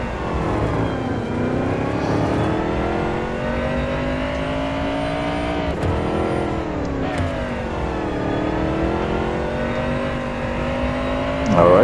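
A Camaro ZL1 in the Real Racing 3 racing game revs hard at full throttle, its loud, steady engine roar climbing and dipping in pitch through gear changes and corners, up close and continuous.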